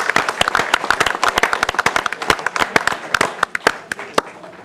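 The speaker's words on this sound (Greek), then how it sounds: "Ένα θερμό χειροκρότημα" Warm applause from the audience at a Greek Asia Minor cultural association event in Kozani. Sharp claps come in an uneven burst that thins slightly toward the end.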